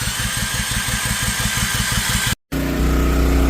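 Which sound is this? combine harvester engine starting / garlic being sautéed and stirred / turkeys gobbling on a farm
combine harvester engine starting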